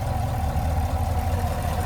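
A 2023 Chevrolet Camaro LT1 RS convertible's 6.2-liter naturally aspirated V8 idles with a steady, close, deep rumble that holds even throughout, with no voices over it.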